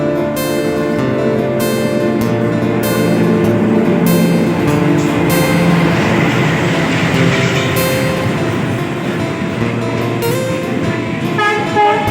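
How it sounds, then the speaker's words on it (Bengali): A train rumbles loudly alongside a platform, with a horn sounding and a steady mechanical roar throughout, close and continuous. "ট্রেনটা আমাদের প্ল্যাটফর্মে চলে আসার পরেই ট্রেনে উঠে পড়লাম তাড়াতাড়ি করে"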